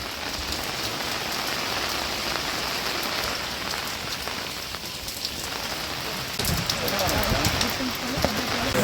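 Steady rain pours down on an outdoor pension distribution, a dense, even hiss of drops striking surfaces throughout that swells slightly louder toward the end, with no clear talk.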